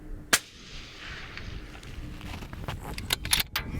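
A single sharp rifle shot cracks out early during a coyote hunting range check, followed by a low rumbling tail and scattered light clicks and handling noises.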